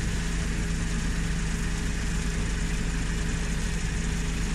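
A Suzuki Every Wagon engine idles with a steady, low continuous hum and even rumble, no change in pitch and no ticking, close by and without voices.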